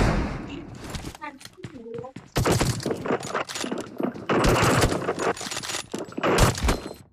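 Gunfire in the mobile battle-royale game PUBG Mobile, bursts of loud shots and impacts mixed with a voice talking over the action.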